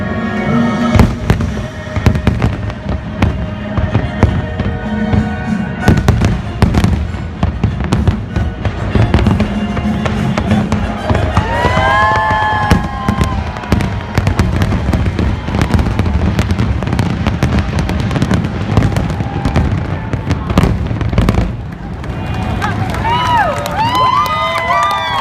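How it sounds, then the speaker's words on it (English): Magic Kingdom fireworks finale viewed from the top of the Contemporary resort: rapid booming and crackling bursts with whistling shells, distant rumbles under a cheering crowd, continuous and loud throughout. "Let's go look at the fireworks finale from the Magic Kingdom."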